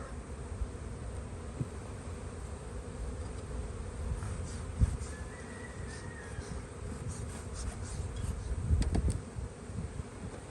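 During a spring hive inspection in Southern California, honey bees hum in a continuous low drone close at hand, with a few faint distant bird calls; no one speaks.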